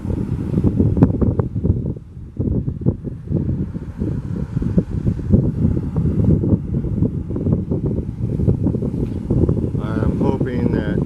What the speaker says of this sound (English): I know the wind's bad.